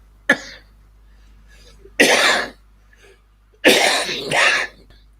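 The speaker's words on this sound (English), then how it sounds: "my cough is productive" A man coughs three times, one short sharp hack followed by two longer, wet, chesty coughs, the last with a double burst, close up in an otherwise quiet room.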